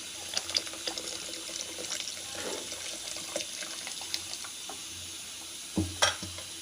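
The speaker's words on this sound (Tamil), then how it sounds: "இப்போ நம்ம வேக வச்ச வேர்க்கடலையில் இருக்கிற தண்ணியை இதில் சேர்த்துக்கலாம்" Water from boiled peanuts pours and trickles steadily into a cooking pot of masala curry over a soft background hiss, with a few light clinks and a splash near the end.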